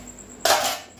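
Washed dishes and utensils being set aside in a home kitchen give a sudden bright clatter midway through, loud at first and trailing off into a fading rattle, with no talking.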